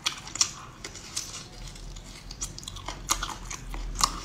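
Close, crisp crunching and biting from eating snails, with irregular sharp crunches scattered over a soft chewing background and no talk.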